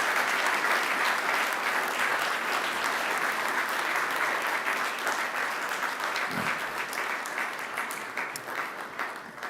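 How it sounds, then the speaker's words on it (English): Graduates at a Macquarie University graduation ceremony applauding their families and friends, a large hall full of steady, dense clapping that holds for several seconds before gradually tapering. "give them a mighty round of applause in appreciation"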